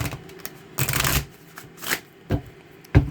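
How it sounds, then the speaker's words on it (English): A deck of tarot cards is shuffled close up in several quick riffling bursts separated by short pauses. "Let's get a better shuffle than that."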